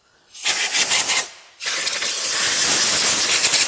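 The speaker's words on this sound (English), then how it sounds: "hook up the chuck and blow all of the gritty, loose dirt from top to bottom down onto the floor where we can vac it" A compressed-air chuck blasts loose grit out of a Corvette interior in two loud, close hissing bursts, a short one first and then a longer continuous rush after a brief pause.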